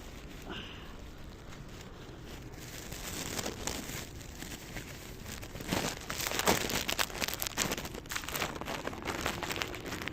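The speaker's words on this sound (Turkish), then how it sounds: "Poşeti açayım." A plastic bag is crinkled and pulled open outdoors in a park, a continuous close rustling and crackling that grows busier and louder as the bag is worked open.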